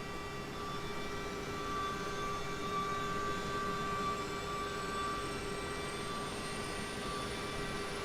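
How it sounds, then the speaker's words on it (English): APU on an Aerosoft CRJ700 in Microsoft Flight Simulator spooling up, a steady whining turbine hum with tonal lines slowly rising in pitch over airy noise, fairly quiet and alone. "APU start. Cool. APU is spooling. If you want to listen to it."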